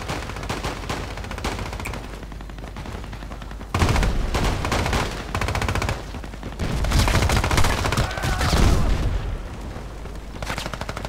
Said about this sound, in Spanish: ¿Dónde coño vienen esos tiros?